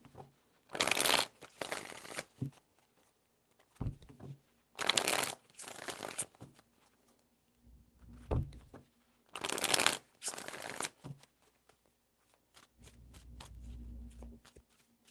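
Tarot cards shuffled in several quick riffling bursts, close and crisp, separated by short pauses, with faint low sounds between.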